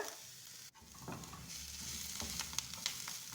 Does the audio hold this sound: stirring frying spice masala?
yes